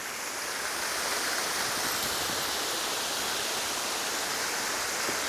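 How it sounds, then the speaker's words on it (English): Creek water flowing out of an opening and easing through a channel along the Natchez Trace Parkway, a dense, steady rushing wash that stays loud and even throughout. "You can see the water coming out of there. And it's just easing on through here."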